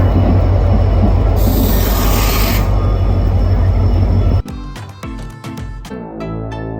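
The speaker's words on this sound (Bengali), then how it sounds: "ফাইনালি আমাদের ট্রেন চলে এসেছে" A long-distance express train rolls into a platform at Howrah station, a loud steady low rumble of wheels and carriages lasting several seconds before it ends abruptly, followed by scattered clanks and station noise.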